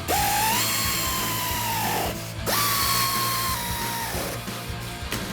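Power tool driving the headlight mounting bolts on a 2015-2023 Dodge Charger, two whirring bursts of about two seconds each, close and loud over a faint background hum, no voices.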